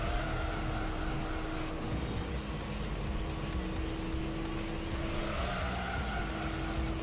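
A race car engine in Gran Turismo 3 holds a loud, steady high-rev whine throughout, shifting pitch slightly partway through, with a faint hint of tire noise underneath.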